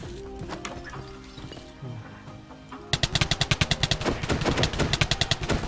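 Automatic gunfire in Minecraft: The Walking Dead, a rapid, evenly spaced string of loud shots that starts suddenly after quieter game sounds and rattles on for several seconds.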